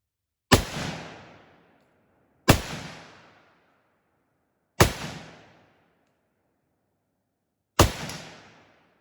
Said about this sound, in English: We've got a farther target though, so I will start shooting at that one.